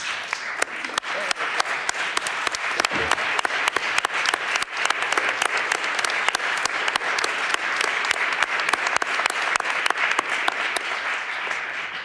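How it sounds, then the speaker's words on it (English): Dense, steady applause from a standing audience at Vice President Harris's infrastructure event in New Jersey, loud and continuous with sharp individual claps. "I think we should all stand up and just give this topic a round of applause"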